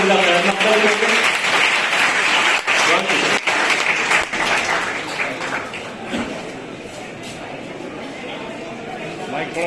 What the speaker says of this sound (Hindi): जोरदार तालियों से उनका प्यार करते हैं।